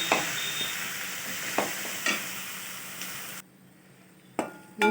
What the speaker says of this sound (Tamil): அதை தட்டி நல்லா கிளறி கொடுக்கணும்